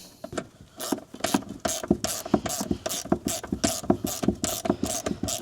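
A ratchet clicks in quick, steady bursts while starting a small bolt during a K&N cold air intake install on a 2021 Ford Bronco 2.3L, close and fairly loud with no talk.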